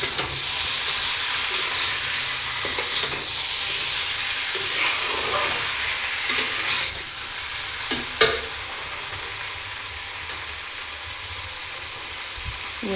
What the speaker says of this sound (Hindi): इसको मैं कर लूँगी फ्राई